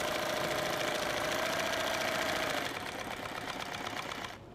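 A sewing machine runs steadily, stitching fabric for a 2-quart canteen liner, its dense mechanical whir continuing for over two seconds before easing slightly and cutting off near the end.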